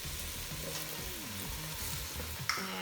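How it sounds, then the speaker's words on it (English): Big chunks of cabbage fry in a pot with cooking flour, giving a steady close sizzle with soft stirring and a clink near the end, and no voices. "Now we're just gonna add cabbage."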